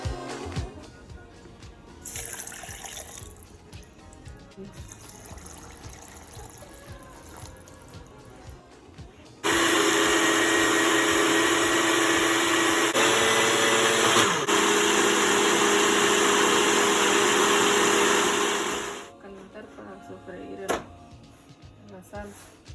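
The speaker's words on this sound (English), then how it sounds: "you're going to add all the cleaned vegetables into the blender with the fried ingredients" A blender whirs loudly and steadily for about ten seconds, puréeing cleaned vegetables with fried ingredients and broth for Mexican green mole pipián, with quieter kitchen handling sounds before and after.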